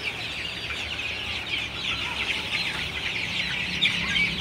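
Chickens clucking steadily in a poultry farm shed during hot, muggy weather, a dense continuous chorus of many birds at moderate level with no talk.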